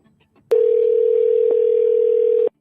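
A single long steady telephone tone sounding for about two seconds as a call rings out, loud and clear, then cutting off abruptly.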